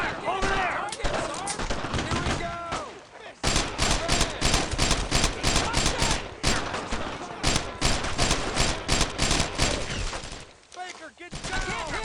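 Dense gunfire in the World War II shooter game Brothers In Arms: Road To Hill 30, with rapid bursts and single cracking shots rattling near and loud almost throughout, along with brief pauses and voices shouting in the background.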